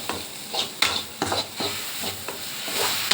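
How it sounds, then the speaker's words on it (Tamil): Cooked rice is stirred into egg masala in a pan with a spoon, giving rhythmic scraping strokes about every half second over a low, steady sizzle, with no voices. "இப்போ வந்து ரைஸ் வந்து போட போகிறோம்."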